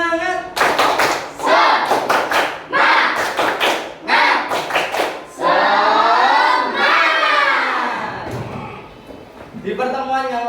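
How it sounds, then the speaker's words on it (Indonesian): A school class performs a rhythmic spirit clapping chant, bursts of sharp claps in quick patterns alternating with shouted group chanting, loud and close, led by a teacher in a classroom. "Tepuk semangat."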